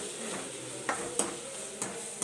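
Spices tempering in hot oil give a steady, quiet sizzle, with a few sharp metallic clinks of a spoon against the pan rising above it; no talking.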